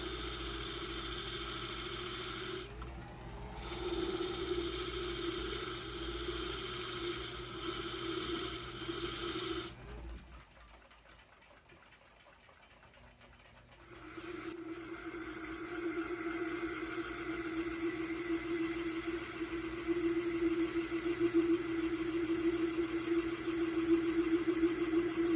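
A brass plug in a clock gear's center hole is machined flush to the gear face on a lathe, giving a steady close mechanical hum and whir with a brief quieter pause partway through.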